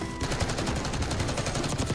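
AK rifle fire in Black Ops 6, a dense rapid stream of loud automatic shots running unbroken for the whole two seconds with no voices over it.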